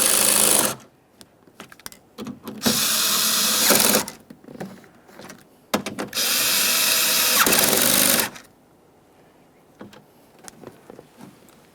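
Power drill snugging bolts on the rear window motor and regulator assembly of a 2009-2014 Nissan Maxima, with two loud sustained whirring bursts of about a second and a half and two and a half seconds, surrounded by small clicks and handling noises.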